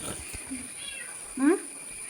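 A cat that has just given birth to kittens lets out one short, close meow in the second half, over a quiet room with faint background noise.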